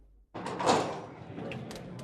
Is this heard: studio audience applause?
no